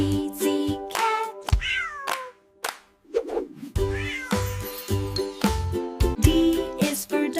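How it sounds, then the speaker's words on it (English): Cat meows in a children's alphabet phonics song, several short rising and falling meows set against a bright, rhythmic musical backing with chimes and percussive hits. "C is for cat."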